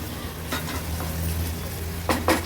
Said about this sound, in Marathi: हे बघा लो फ्लेमवर कांदा आपण व्यवस्थित शिजवून घेतला आहे